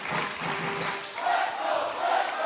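A gymnasium crowd cheering for the Briarcrest boys at a high school basketball conference championship semi-final, a dense, continuous roar of many voices rising and falling in waves across the space.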